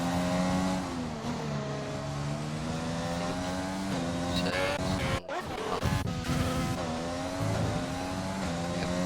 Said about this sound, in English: The Red Bull crossing the line.